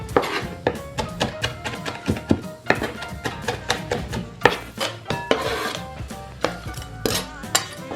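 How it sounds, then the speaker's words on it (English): A knife chops fresh rosemary and parsley on a board in quick, uneven strokes, crisp and close, with an occasional louder knock of the blade. "I'll give it a little wash and we'll chop all those up"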